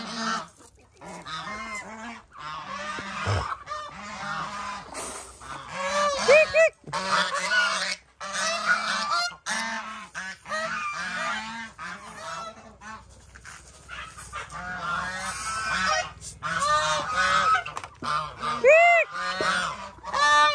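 Geese honk loudly and repeatedly while being fed, their calls overlapping in busy bursts close by, with a few brief human voices in between.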